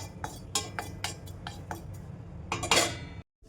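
A metal spoon clinks against a pan while dry misal masala spices are stirred together with kasuri methi, a series of sharp taps and scrapes that builds to a busier rattle before stopping abruptly.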